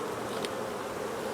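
Honey bees buzzing around a hive, a steady, close, continuous hum with no voices.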